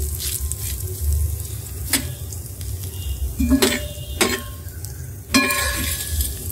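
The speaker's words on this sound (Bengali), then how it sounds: "মাছগুলো মচমচে করে ভেজে নিয়েছি।" Crispy tangra fish fry in hot oil in a home kitchen, a soft steady sizzle beneath several sharp metallic clinks and scrapes of a utensil against the pan.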